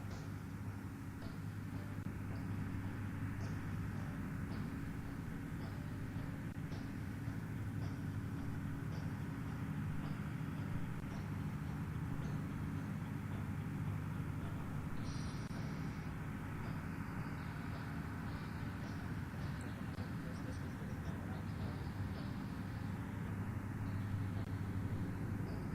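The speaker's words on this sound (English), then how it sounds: "Notice how the aircraft is coming in at low levels." An aircraft on low approach to land on the airstrip at Pokhran produces a steady, loud engine roar that holds for the whole stretch without pause, outdoors and fairly close.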